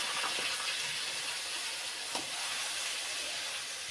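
Chopped onion, garlic, tomato and meat sizzle in hot oil, a loud, continuous hiss that holds steady throughout with a few faint pops and no voices.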